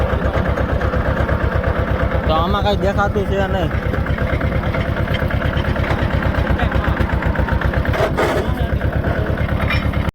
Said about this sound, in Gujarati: તમે જુઓ અમારું ટ્રેક્ટર પણ અંધરૂકિયું જાય છે.